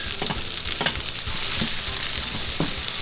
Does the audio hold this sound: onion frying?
yes